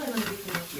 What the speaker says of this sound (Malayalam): ഉള്ളി റോസ്റ്റ് ആക്കി വെക്കുവാണ്. ഉള്ളി നല്ല ബ്രൗൺ ആവുന്ന വരെ റോസ്റ്റ് ചെയ്യും.